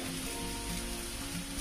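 Leftover day-old long-grain rice tossed into a hot frying pan with onion and carrot, giving a constant crackling sizzle that is close and even, with no voices.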